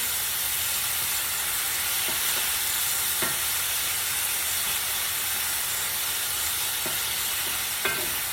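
Beef and shrimp stir-fry on high heat, a loud, constant sizzling hiss of frying with occasional clicks and stirring scrapes close at hand.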